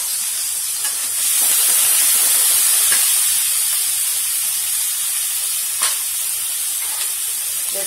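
Onions dropped into hot oil for chicken do piyaza set off a loud, hissing sizzle that swells after the first second and holds steady, close and continuous, with a brief crackle later on.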